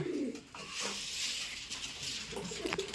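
Pigeons coo softly at feeding time, with several low, throaty calls overlapping against a gentle patter of movement and grain.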